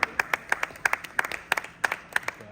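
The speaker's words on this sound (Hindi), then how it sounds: "तालियां बजती रहनी चाहिए एवरीवन" Scattered hand claps from a small audience at a song launch event in Lucknow, a few distinct sharp claps in an uneven rhythm, fairly close and moderately loud, with no one speaking.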